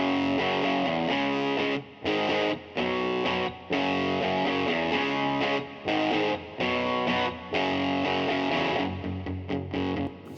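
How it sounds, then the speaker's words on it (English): Double-tracked, distorted electric guitar plays chords panned left, with its reverb return panned right, in rhythmic bursts with short gaps between phrases, loud and upfront with no voice. "So you can hear that the guitar is on the left and the reverb for that guitar is coming out of the right."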